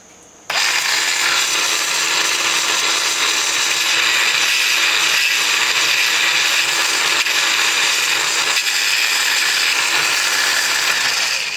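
A Granberg precision chainsaw sharpener grinds a chainsaw chain, starting abruptly after a brief quiet moment and then holding a steady, loud, high-pitched whir with faint rhythmic ticks from the chain, with no talking.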